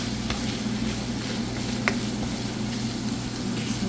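Food sizzling in a hot pan on raised heat while being stirred for spaghetti and meatballs: a steady close crackling fry with occasional scraping stir sounds.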